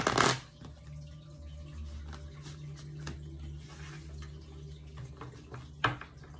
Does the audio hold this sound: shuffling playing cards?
yes